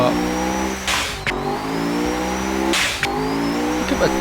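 A pair of running engines on a showcase stand, one with a glowing red turbine and exhaust and a worn compressor, revs loudly in two sharp bursts over a steady harmonic drone, close and alone.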